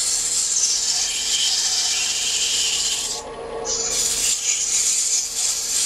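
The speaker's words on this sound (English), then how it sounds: "now we're going to use some 120 grit sandpaper and smooth off a little narrow strip that I've cut." A narrow wooden strip is sanded by hand with 120 grit sandpaper, giving a close, steady, continuous rasping rub that eases briefly in the middle before resuming.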